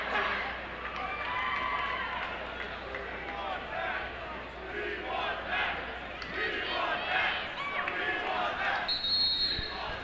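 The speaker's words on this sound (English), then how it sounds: "The crowd, if you can hear them, they're hollering, "We want Mac."" Crowd at a Division 3 boys high school basketball game between Bishop Fenwick and North Cambridge, hollering and chanting loudly and steadily throughout, with a busy wash of voices in the gym and a brief whistle-like tone near the end.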